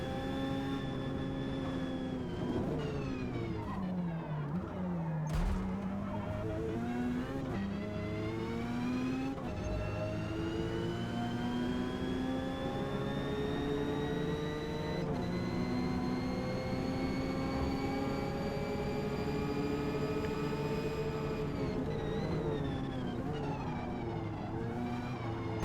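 A Mazda RX7 race car's engine drones steadily through a Forza Motorsport race at Yas Marina, its pitch climbing and dropping through gear changes while other cars run close, with no talk over it.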